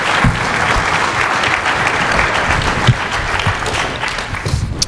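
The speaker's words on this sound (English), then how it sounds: "give our final panel a big round of applause" Sustained, dense applause from a conference audience for a panel, loud and steady throughout with occasional sharper claps standing out.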